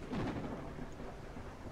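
Thunder rumbles over steady rain during a thunderstorm in the video game Gothic 1 Unreal Engine, a low rolling boom near the start fading into a constant wash of rainfall with no voices.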